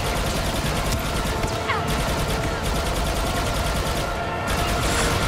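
Gunfire in Star Wars Battlefront 2 from a First Order machine gun trooper's weapon and surrounding fighters: dense, continuous bursts and scattered shots filling the whole stretch at steady loudness.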